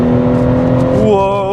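A supercharged V6 in a Mercedes-Benz C32 AMG pulls hard, its steady tone rising in pitch near the end, loud and close, with a brief exclamation from an occupant over it.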